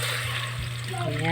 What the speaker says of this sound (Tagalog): So, lagyan na natin ng tubig.